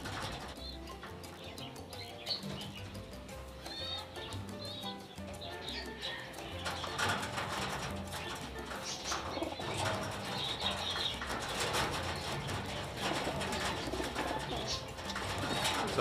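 Pigeons being readied for summer racing flap their wings and chirp in steady bursts throughout, with a busier, louder stretch of wingbeats and calls in the second half; a voice may be faintly present.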